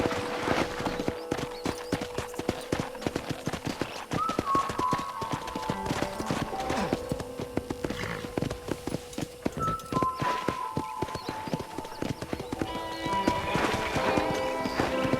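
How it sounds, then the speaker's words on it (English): Horse hooves in Red Dead Redemption clip-clop in a steady rhythm throughout as a horse is ridden, with occasional neighs and faint background music. "let's see if you can still ride a horse"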